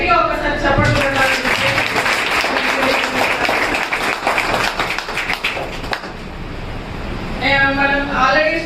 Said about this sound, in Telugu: అందుకని వారి కోసం మనం ఒక్కసారి గట్టిగా ఒకసారి చప్పట్లు కొట్టాలి.